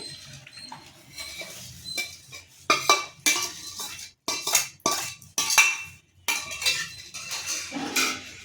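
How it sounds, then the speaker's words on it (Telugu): Mango pickle being stirred with groundnut oil, producing repeated wet, clinking scrapes of a utensil against a dish in uneven bursts, close and moderately loud with no talking. "ఇది గ్రౌండ్నట్ ఆయిల్ వేసి కలుపుతున్నాము"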